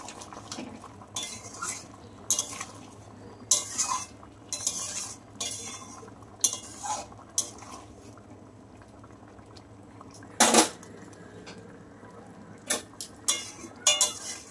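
Dry-roasted ground coriander and cumin get stirred into a simmering pan, with repeated spoon scrapes and metallic clinks in uneven bursts over soft, low bubbling, fairly close and moderately quiet.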